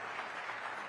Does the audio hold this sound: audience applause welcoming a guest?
yes